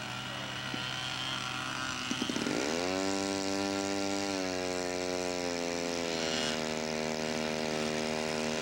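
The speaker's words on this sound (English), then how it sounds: "Love that onboard electric start." A model float plane engine with onboard electric start cranks briefly, catches and revs up into a loud, steady buzzing drone. The pitch climbs after startup and then holds at high revs, close by, with no talking.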